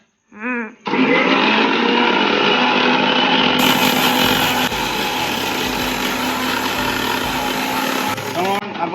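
A kitchen blender whirs loudly as it blends mint leaves, chilli and lemon, running steadily for several seconds after a short burst of talk at the start before cutting off near the end.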